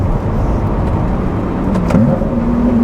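Lotus Exige sports car with its exhaust valves opened, engine accelerating hard with a loud, rising roar heard from inside the car, pitch climbing steadily.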